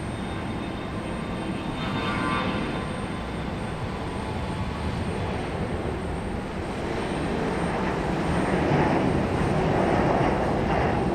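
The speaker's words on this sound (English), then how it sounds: "that CRJ getting a move on" A CRJ regional jet moves at Raleigh-Durham International Airport, its engines producing a loud, continuous broadband roar that holds steady and swells slightly toward the end, heard outdoors at some distance.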